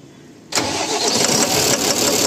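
A Mahindra Blazo BS6 truck's large diesel engine, faulty and blowing black smoke, cranks and catches abruptly, then settles into a loud, rough, clattering idle close by.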